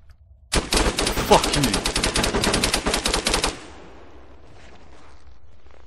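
Automatic weapon fire in the video game ArmA 3 during close quarters combat, a loud, sustained rapid burst of shots lasting about three seconds that cuts off into a quiet hum, with a voice swearing partway through.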